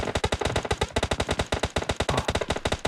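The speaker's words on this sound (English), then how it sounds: "Volta just managed to avoid the worst of the gunfire there" Rapid automatic gunfire in a competitive video game match, a steady run of sharp, evenly spaced bursts that is loud and close, with no talk over it.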